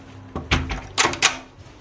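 Bathroom door in a city hotel room in Minsk being opened or closed: several short knocks and clunks in a quick cluster, moderately close, with no talking.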